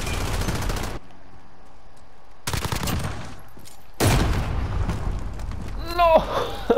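Bursts of automatic gunfire in a Call of Duty multiplayer match, loud rapid volleys separated by brief gaps, with a voice talking in places under the shooting.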